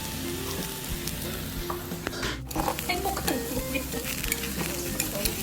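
Pork cooking over a direct oak-wood fire hisses and sizzles steadily up close, broken by light clinks and scrapes of utensils against the grill; no one talks over it.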